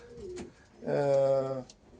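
A young racing pigeon gives one close, throaty coo lasting under a second, after a softer murmur from the birds nearby, with a faint background hum.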